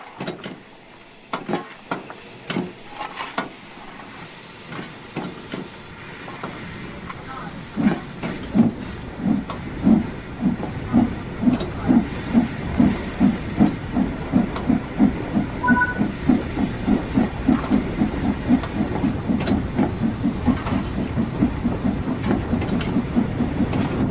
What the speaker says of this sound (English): Once the wheels have rotated a few times with the cylinder cocks open, you should close them to preserve steam.